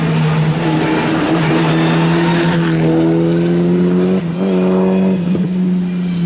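An Opel Astra GSI rally car on a special stage at the Rajd Śląska rally roars loudly and close, its engine pitch climbing through gears with a brief drop and tire noise as it passes.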